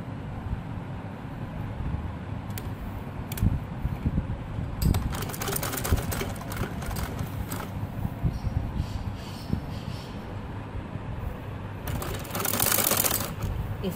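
Domestic sewing machine stitching lace and piping onto a band (ban) neckline, a steady mechanical whir running under low room noise with a few short clicks and a brief louder burst near the end.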